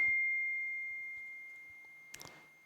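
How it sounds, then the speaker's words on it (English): A text message notification rings as a steady, pure electronic tone that slowly fades, followed by a brief cluster of higher chirping blips near the end. "I just got the text message."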